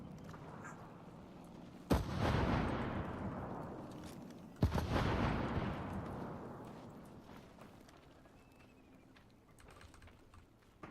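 Two heavy booming shots ring out in a battlefield video game, each sharp blast trailing off into a long rumbling decay, with faint clicks in between and no talk.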